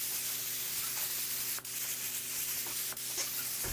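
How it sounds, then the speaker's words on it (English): A gravity-feed cup spray gun lays down Sherwin-Williams pre-catalyzed lacquer in a steady, close airy hiss, broken by two brief pauses, over a faint low hum in a workshop. "I use a gravity feed cup gun and Sherwin-Williams pre-catalyzed lacquer and apply two coats to projects like this"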